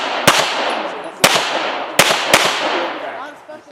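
Four sharp pistol shots ring out at an action pistol range, with two, then two more spaced over a few seconds, each a loud crack with a ringing decay into the open air.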